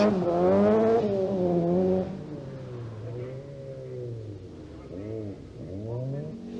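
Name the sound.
2-litre Cosworth rally car driving through tarmac stage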